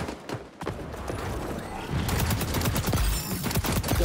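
Close, loud assault rifle fire in the shooter game XDefiant, with dense rapid bursts of sharp shots that grow heavier partway through, mixed with other gunfire in the match.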